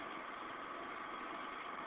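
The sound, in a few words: Yamaha 3000 watt generator idling in economy mode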